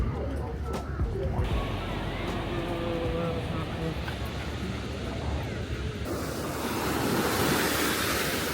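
Ocean surf rolls onto a beach on Zhoushan island, a steady wash of breaking waves with heavy wind buffeting the microphone that grows rougher and louder toward the end.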